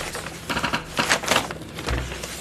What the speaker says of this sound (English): So I'm typing in the word hawk.